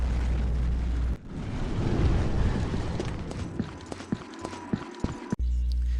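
Rapid-fire airstrike explosions from a modded Combat Arms game, a dense stretch of rumbling blasts followed by a string of sharp, separate bangs, loud and close with no talking.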